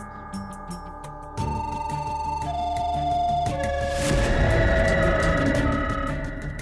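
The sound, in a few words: phone ringing during an outgoing call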